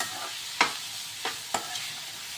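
Tomato frying in a pan for a mushroom capsicum masala, with a soft continuous sizzle broken by a few sharp scrapes of a spoon stirring, close up and with no voices.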